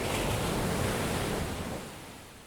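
Ocean surf of the warm Indian Ocean breaking and washing in a steady broadband roar, loud at first and easing off gradually toward the end, with no voices.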